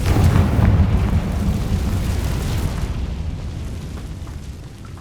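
A Confringo spell blast in Hogwarts Legacy goes off as a loud, deep boom right at the start, then rolls into a long rumbling decay that fades gradually over several seconds.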